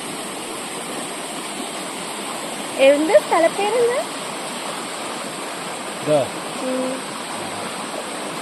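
Forest stream water at Mukkadayar rushes in a steady, even roar throughout, with a few people's voices speaking briefly over it.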